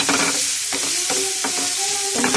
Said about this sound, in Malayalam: നന്നായി ഇളക്കി കൊടുക്കുക. ഒരു ബ്രൗൺ കളർ ആവുന്നത് വരെ വഴറ്റിയെടുക്കുക.